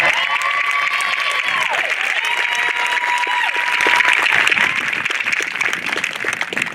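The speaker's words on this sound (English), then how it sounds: "Give another round of applause to the class of 2025." Sustained applause from a crowd for a middle school class of 2025 at its promotion ceremony, dense and loud clapping throughout, with a voice on a loudspeaker speaking over the start.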